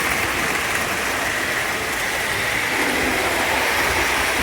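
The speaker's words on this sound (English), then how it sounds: "We have two trains running now." Lionel postwar model trains run on a home layout, a continuous loud metallic rolling rumble and whine from wheels on track, steady throughout with no speech.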